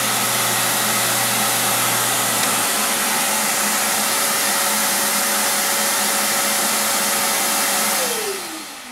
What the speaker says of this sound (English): When I shut the table saw down, the shop vac will wait about 5 seconds, collecting any remaining dust